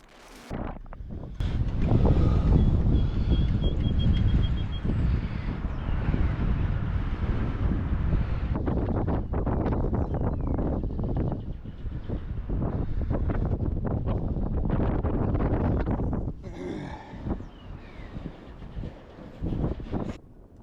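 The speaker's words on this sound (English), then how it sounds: "as I was climbing the tower, it was super windy, especially towards the top" Strong wind at the top of a tower roars and buffets the microphone almost continuously, loud and gusty, easing briefly toward the end before surging again.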